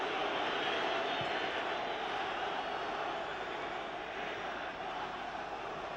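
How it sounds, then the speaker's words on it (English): Football stadium crowd at an England versus Italy World Cup qualifier in 1977, a broad, steady roar of unhappy jeering filling the air without a break. "Certainly the crowd are far from happy with Tardelli's treatment of Kevin Keegan"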